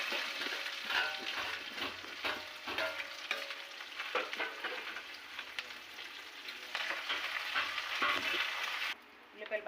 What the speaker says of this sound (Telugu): ఆయిల్ మరిగింది, మెంతులు వేసాను, ఆవాలు వేసాను. చూడండి, ఉల్లిపాయలు, పచ్చిమిరపకాయలు, కరివేపాకు,